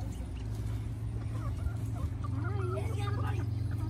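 Chickens at a petting zoo cluck and squawk in short rising calls amid steady outdoor background noise and people talking nearby.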